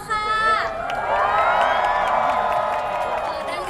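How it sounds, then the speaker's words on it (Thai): A crowd at a third-generation debut performance at Central World shrieks and cheers loudly. The sustained, high-pitched screaming swells right after a brief announcement and holds steady to the end. "ขอเสียงกรี๊ดให้กับเพื่อนๆของพวกเราได้ไหมคะกับโชว์ First Performance ของพวกเราค่ะ"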